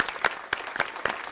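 Brief applause at a Diwali Day proclamation in Aurora, Illinois, a short burst of scattered hand claps from a small group.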